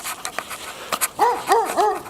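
A dog barks three times in quick succession after a few short, sharper yips and whimpers, close and fairly loud.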